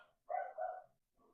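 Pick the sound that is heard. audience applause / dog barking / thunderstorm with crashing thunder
dog barking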